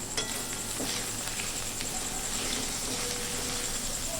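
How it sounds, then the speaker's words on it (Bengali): Spices sautéing with onion and capsicum in a pan for chilli soybean, a soft, steady sizzle that keeps going with light stirring scrapes and no voices. "পেঁয়াজ এবং ক্যাপসিকামটার সঙ্গে কষিয়ে নিচ্ছি একটু মশলাটা"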